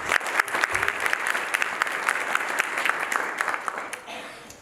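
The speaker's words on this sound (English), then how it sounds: "Please join me in giving a round of applause to Halima and all of the organizers" Audience at the Dinknesh 2024 keynote event gives a sustained round of applause, steady clapping from a crowd filling the room before slowly tapering off near the end.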